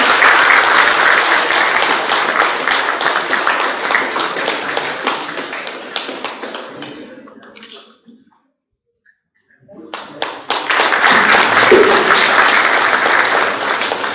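A conference audience at the Indian Steel Conference 2024 gives a loud, dense round of applause that tapers into near silence, then bursts back up strongly for the next team.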